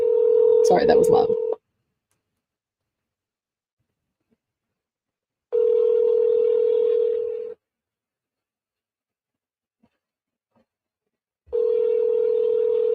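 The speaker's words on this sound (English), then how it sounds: "Let's call Heather" An outgoing telephone call, with a brief burst of dialing noise and then three steady ringback tones, each about two seconds long and separated by long silences.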